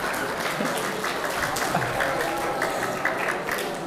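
An audience at a religious farewell and thanksgiving gathering applauds steadily, a dense wash of clapping at even loudness through the whole stretch, with some murmuring voices mixed in.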